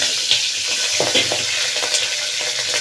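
Curry leaves and green chillies sizzle steadily in hot oil in a pan, with a few scraping stirs of a spoon mixed into the continuous bright crackle.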